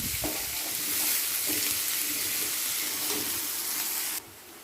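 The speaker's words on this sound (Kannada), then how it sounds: "ಸಣ್ಣ ಕಟ್ ಮಾಡಿದಂಥ ಈರುಳ್ಳಿ ಒಂದೆರಡು ಈರುಳ್ಳಿ ತಂದು ಕಟ್ ಮಾಡಿದ್ದೀನಿ ಇದು ಒಂದು ಸ್ವಲ್ಪ ಫ್ರೈ ಆಗಿ" Finely chopped onions fry in a pan for aloo poha, producing a dense, close sizzle with soft stirring scrapes that cuts off abruptly just before the end, with no speech.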